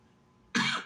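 A single short, loud cough from a person with a small cough and cold, bursting abruptly out of near silence close to the listener.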